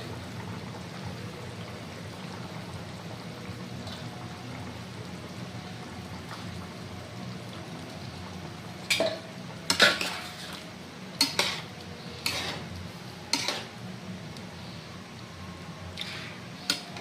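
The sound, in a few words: soybean balls added and stirred into boiled potato curry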